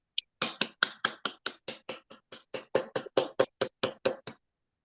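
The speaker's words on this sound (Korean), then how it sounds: "박수로 마치겠습니다." At the close of a leadership lecture, a crowd claps in unison, about eighteen crisp, evenly spaced claps in a steady beat, clear against silence with no talking.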